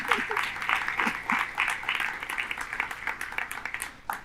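A church congregation applauds steadily for several seconds, a dense wash of claps with a few louder individual hits, with faint voices underneath.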